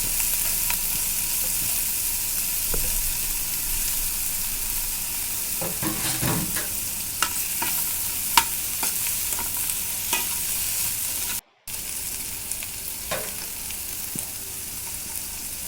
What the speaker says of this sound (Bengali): অল্প পরিমাণে হলুদ দিয়ে পটলের খোসা ভেজে নেব।